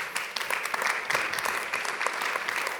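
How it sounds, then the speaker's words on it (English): Brief applause from a conference audience for energy transition panelists, a continuous moderate patter of many hands heard at some distance. "And one more round of applause to our great panelists."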